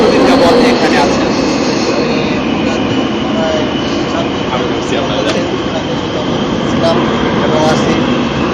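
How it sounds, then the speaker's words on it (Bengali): A train in South Korea roars past, a loud, sustained rumbling drone heard up close that fills the whole stretch, with a voice faintly present beneath it. "ট্রেনের বিকট শব্দ"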